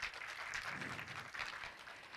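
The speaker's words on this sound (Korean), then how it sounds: "유익한 강연해 주신 강함수 대표님께 다시 한번 큰 박수 부탁드리겠습니다" Audience applause at a Korean online journalism awards event following a lecture, a steady wash of clapping filling the room for a couple of seconds.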